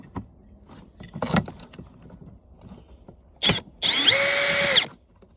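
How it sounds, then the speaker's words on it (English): A power drill fitted with a magnetic bit backs a screw out of a stand-up floor fan, giving two short whirring bursts close by, the second longer and steadier, after quiet handling clatter. "And that's magnetic, fits right to my drill."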